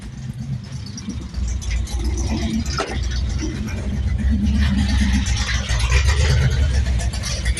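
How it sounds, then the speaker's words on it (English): A neglected race car engine with a weak battery idles roughly and steadily, loud and close, with a slight rise in level partway through and no clear talking. "battery's extremely weak, so she don't sound great, but we got her running. So we're going to go ahead and let her idle."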